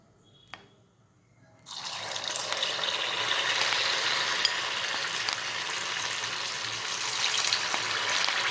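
Batter-dipped ripe banana slices dropped into hot oil, a quiet moment and a small knock, then a sudden loud, steady bubbling sizzle that holds for the rest of the clip.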